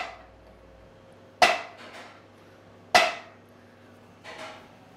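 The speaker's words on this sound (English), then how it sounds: "take a rubber mallet, hit the front of the crank" A rubber mallet strikes the front of an LS crankshaft twice, two sharp, close metallic knocks with a short ring-out, each followed by a softer tap.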